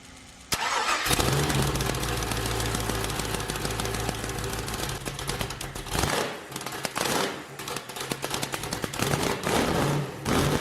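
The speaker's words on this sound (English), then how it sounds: "I'm going to fire up the race car and check the belt for the power steering" A twin-supercharged Ultra4 race car engine cranks and fires up, then holds a loud, rough idle with surges of revving and a brief dip partway through, close by and with no talk.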